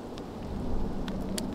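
Steady rain falling on an open disc golf course, a soft continuous hiss with a low rumble swelling midway like distant thunder, plus a few sharp droplet ticks near the end.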